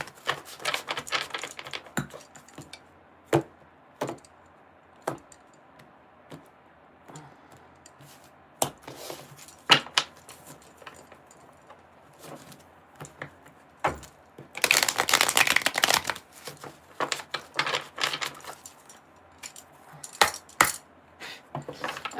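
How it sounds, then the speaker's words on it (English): Sharp crisp snaps and riffling bursts of tarot cards being shuffled, irregular taps with a couple of longer riffles, close and fairly quiet. "you want me to shuffle this up more for Cancer?"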